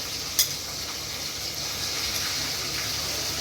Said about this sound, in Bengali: এই মাছ ভাজাটা হয়ে গেলে